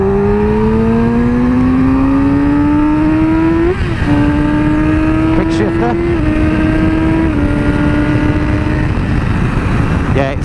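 A 2017 Yamaha R6 sport motorcycle accelerates hard in third gear, its engine note climbing in a loud, close, high-revving whine with quick shifts stepping the pitch, while wind roars steadily underneath.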